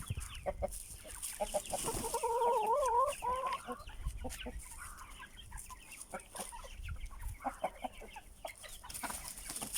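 Chickens clucking inside a coop, a busy mix of close, choppy clucks and squawks from several birds, with one hen giving a longer wavering cackle partway through.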